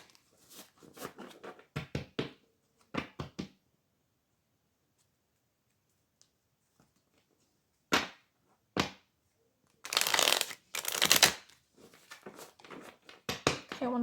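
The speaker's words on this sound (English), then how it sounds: "Shuffling the cards." Tarot cards are shuffled by hand in a quiet room, coming as clusters of soft riffling flutters and crisp slaps, with a long silent gap midway and a denser burst of shuffling toward the end.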